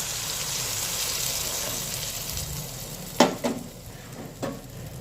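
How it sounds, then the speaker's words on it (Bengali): Water poured into spiced masala of turmeric, chilli powder and salt frying in a pan for a fish curry, a continuous close sizzle with a few sharp clatters and stirring knocks toward the end. "জল দিয়ে দেব"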